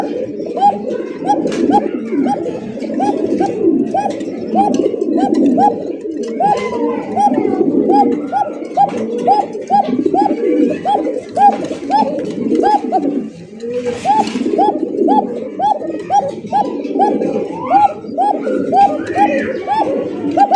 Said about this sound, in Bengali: একজোড়া হোয়াইট রেসার কবুতর